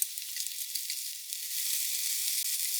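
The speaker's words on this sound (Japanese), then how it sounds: "豆苗を混ぜている間に卵に焼き色がついちゃったね" Pea shoots and egg fry in a pan with a bright, steady sizzle, close and continuous with faint crackles and no voices.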